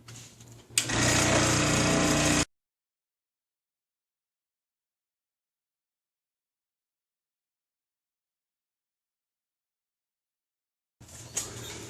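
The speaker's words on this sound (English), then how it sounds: "I'm going to use the scroll saw today to cut this out." A scroll saw fitted with an aggressive 7-tooth-per-inch blade cuts through thick wood, a loud buzzing, rattling burst that stops abruptly after about two seconds, then a long silence before the saw starts briefly again at the end.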